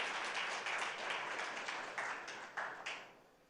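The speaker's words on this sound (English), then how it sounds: "I think he needs a loud round of applause." An audience at a live southern India summit applauds a guest, a dense round of clapping that thins out toward the end, with the last few separate claps fading away, fairly quiet.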